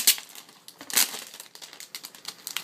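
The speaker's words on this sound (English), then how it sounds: "And let's just take this plastic off." Plastic wrap peeled off a new Apple Bluetooth keyboard during unboxing gives close, steady crinkling and crackling, with a sharper burst of rustle near the start and another about a second in.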